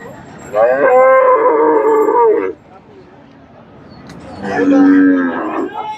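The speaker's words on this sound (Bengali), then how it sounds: "সুন্দর একটা সার গরু আটানব্বই হাজার" A bull for sale at the Chandaikona cattle market in Bangladesh gives two long, loud, drawn-out moos close by, with a short pause between them.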